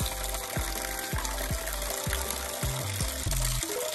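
Mountain spring water runs from a tap into a vessel, with gurgling pours and repeated glugging pulses as the container fills, close and moderately quiet.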